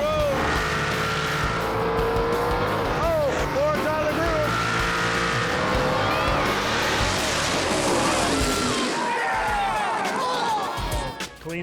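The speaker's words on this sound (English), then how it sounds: "For over 50 years, Famoso Raceway has been the home to some of the wildest tire-shredding drag racing in the nation." Drag racing at Famoso Raceway, including a hard-to-control Ford Mustang: a roaring race engine at sustained full volume with tire squeal, while an announcer talks over it throughout before the engine tails off at the end.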